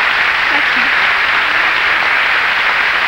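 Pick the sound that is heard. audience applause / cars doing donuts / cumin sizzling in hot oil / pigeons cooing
audience applause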